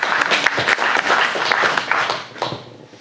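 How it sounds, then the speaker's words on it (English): An audience bursts into loud, dense clapping that holds strong for a couple of seconds before tapering off into scattered claps. "Give her a clap."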